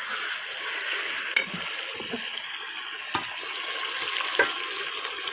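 Food fries in a pan with a steady, loud sizzle throughout, close by, with a few faint clicks and scrapes of stirring and no speech.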